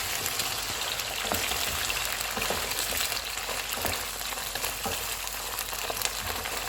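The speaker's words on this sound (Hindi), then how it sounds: "इसको मिक्स करेंगे।" Chicken mixed with tomato puree sizzles in a pan under steady stirring, a moderate continuous hiss broken by light scraping taps of the spoon against the pan.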